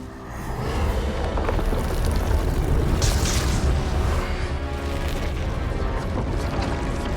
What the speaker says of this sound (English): she dropped the airstrike on him